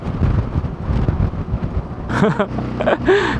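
Very strong typhoon wind battering a stopped motorbike rider on a mountain road, a loud rumbling buffeting roar against the microphone, with a voice exclaiming over it toward the end.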